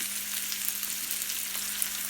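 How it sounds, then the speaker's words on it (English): Vegetables frying in oil in a pan for Philly cheesesteaks, a close, constant crackling sizzle with small pops, steady throughout and with no talking. "Add a little bit of oil here to help these vegetables get a little bit more active."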